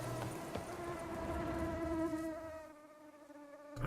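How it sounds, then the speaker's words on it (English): Bees buzzing in The Witcher 3: Blood and Wine, a steady droning hum with strong harmonics that holds for several seconds, then thins before a brief louder swell at the end. "It's bees."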